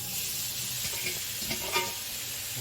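Wet oyster mushrooms frying in a spoonful of cooking oil in a pan, a steady bright sizzle with a few soft stirring scrapes, close and even throughout.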